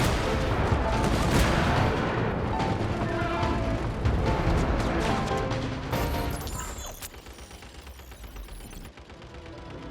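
Artillery fire in the Genshin Impact video game, a dense barrage of heavy booms and crashing blasts that fills the first several seconds, then thins into lighter rumbling and scattered impacts.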